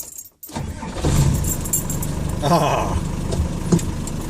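A Land Rover Defender with a 200 TDI diesel engine cranks and catches after a brief pause, then settles into a loud, close, rough clattering idle, with a short exclamation from a voice at the start.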